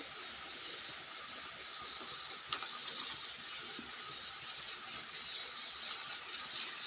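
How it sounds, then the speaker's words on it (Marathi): Continuous hiss of steam escaping from a pressure cooker cooking toor dal with tomato, steady and fairly loud throughout, with faint clicks and rattles underneath. "इकडं कुकर लावलेला आहे"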